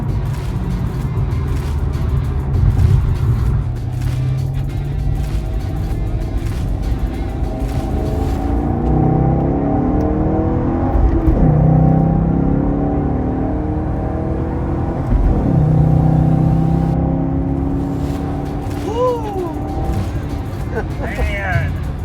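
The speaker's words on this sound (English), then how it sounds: "it was sucking in air through that K&N filter, and it gives it that deep, throaty sound" A 2017 Chevrolet SS engine with a K&N air filter rumbles deeply and revs up and down repeatedly, loud and close, with a throaty growl.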